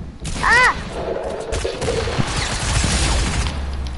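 Gunfire crackles through a video game shootout, a burst of shots followed by scattered reports and clatter, with a player's voice talking over the action.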